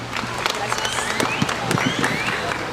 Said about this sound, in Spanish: pedimos un fuerte aplauso